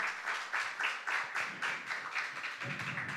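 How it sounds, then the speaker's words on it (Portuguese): Rhythmic group applause in a city council chamber in Xanxerê, steady clapping of many hands pulsing in waves for about three seconds, with no voices over it. "Vocês sabem que o regimento interno não permite nem as palmas, né?"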